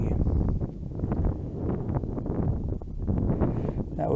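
Wind gusts across the open dunes of White Sands National Monument, a low rumbling buffet on the microphone that pulses unevenly throughout.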